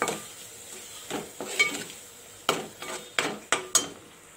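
Masala paste being stirred into a simmering curry in a pan, a utensil scraping and knocking against the metal in irregular strokes, close and fairly quiet, with no one talking.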